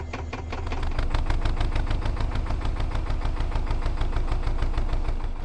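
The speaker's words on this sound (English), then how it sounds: "it was time to start the engine and head off" A canal boat's diesel engine cranks and catches, then settles into a steady, loud, rhythmic chugging that continues without pause.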